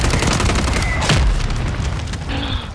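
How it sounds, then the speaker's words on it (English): Mortar shells land in Call of Duty, heavy booms thudding close together amid scattered gunfire, one deep impact standing out near the middle of a continuous, loud battle din. "Dude, the mortar's messing me up so bad, I'm about to die"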